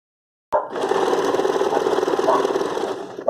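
Close and loud, a sewing machine stitches steadily through faux leather that has been rubbed with body cream, a continuous rapid whirring chatter lasting about three seconds after a moment of silence.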